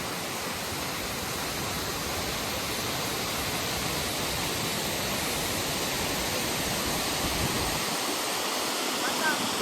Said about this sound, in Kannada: ಇದು ನೋಡಿ ಹೆಂಗೆ ಬೀಳ್ತಿದೆ ನೀರಲ್ಲಿ